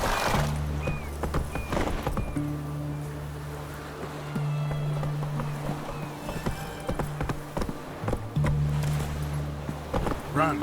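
Hooves of Geralt's horse Roach in The Witcher clop along in a steady rhythm, fairly faint beneath a droning musical or ambient background with occasional sharper accents.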